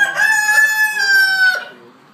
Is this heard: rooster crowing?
yes